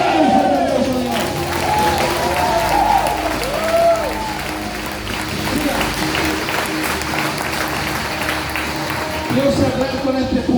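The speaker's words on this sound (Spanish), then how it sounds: "Dale un fuerte aplauso a Dios." A church congregation claps loudly together during a sermon, a sustained dense round of applause with scattered cheers and shouts mixed in, voices rising over it.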